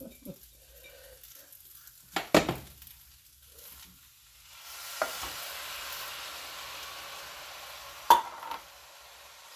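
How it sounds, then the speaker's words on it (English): Vegetables tipped into a skillet already full of Moo Goo Gai Pan and stirred: a couple of sharp clatters, then a soft steady sizzle with scraping stirs and another knock, close and fairly quiet. "And then we're going to put all our vegetables and everything in."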